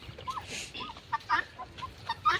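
A hen clucks several times in short, uneven bursts, close by and moderately loud, with brief pauses between the calls and no one speaking.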